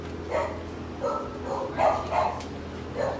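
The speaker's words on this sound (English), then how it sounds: "He's a beautiful dog." At an animal shelter, a dog barks in short yips, roughly five or six of them spread irregularly over a few seconds, at moderate distance over a low background hum.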